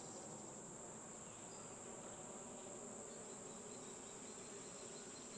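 Honeybees buzzing in an opened beehive during an inspection form a dense, continuous droning hum, close and steady, with no talk.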